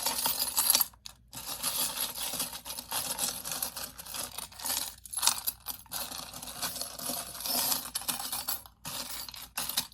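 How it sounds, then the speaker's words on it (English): Tarot cards being shuffled close up, a continuous papery rustle and scraping in bursts with brief pauses between passes. "that seems like it was a pretty good shuffle"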